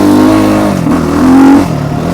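The engine of a Trailmaster TM 38E dirt bike revs up close and loud, a throaty barking drone that rises, dips and swells again across the short burst.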